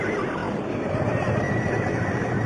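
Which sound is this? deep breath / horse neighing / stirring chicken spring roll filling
horse neighing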